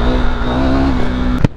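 A motorcycle fitted with an aftermarket exhaust drones loudly and steadily up close, holding an even engine note before a short knock near the end.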